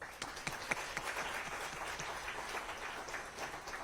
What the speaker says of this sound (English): Let's take time to give them one more round of applause.